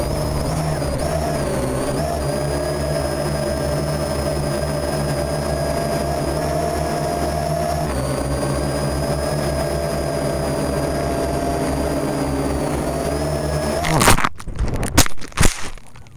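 An AR Drone quadcopter flown from an iPhone takes off and hovers with a steady, high-pitched rotor whine, droning evenly for a long stretch before breaking into irregular clattering bumps at the end.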